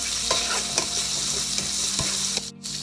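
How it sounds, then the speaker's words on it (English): Cubed red onions sizzle steadily in a tofu stir fry while a utensil stirs and taps the pan in quick, light strokes, with a brief dip in the frying hiss near the end and no voice. "Then goes my red onions. Cut them into cubes. Just give it a little stir."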